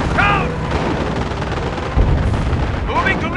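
Artillery barrage and gunfire in the Company of Heroes video game, a dense continuous rumble of shelling with sharp reports, while a voice shouts in-game commands twice over the noise.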